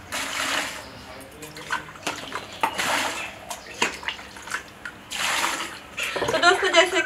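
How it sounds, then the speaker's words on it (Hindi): Water is poured into a bucket of potatoes, with faint gushing and splashing bursts that come and go between softer moments and a few light knocks. "अब इसमें हम पानी डाल देते हैं।"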